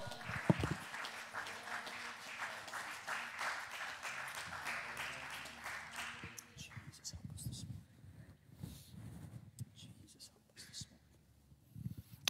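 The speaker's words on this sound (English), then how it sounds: "Why don't we just clap our hands to the Lord today?" Church congregation clapping their hands during a Sunday service, a dense wash of applause for about six seconds that then thins out into scattered claps and low murmuring voices.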